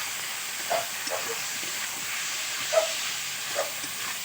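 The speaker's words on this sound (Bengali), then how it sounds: "মাছের ঝোলের মশলা দিয়ে এটাকে ভালো করে একটু কষে নিতে হবে" Fish curry masala with chopped tomato sautéing in a pan for a tuna fish curry, a steady steamy hiss of sizzling oil with a few soft stirring clatters, no talk.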